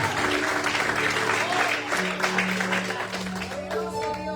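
A church congregation applauds during a sermon, dense clapping sustained throughout alongside held musical tones from instruments, with voices mixed in under the clapping.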